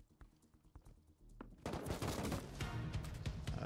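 AK rifle fire in the survival game Rust, a rapid, loud burst of automatic shots that erupts after a second and a half of quieter clatter and keeps hammering to the end.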